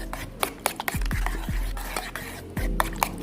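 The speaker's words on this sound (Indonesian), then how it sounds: "Kita aduk dulu sampai rata baru direbus." Mocha coffee and sugar being stirred in a pot before boiling: a spoon scrapes and clinks against the metal in quick uneven strokes, close and fairly loud, with a faint sizzle underneath and no clear talk.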